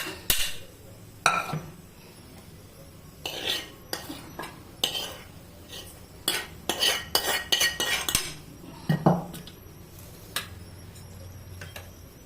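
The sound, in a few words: mixing curd into cooked ash gourd pachadi in a vessel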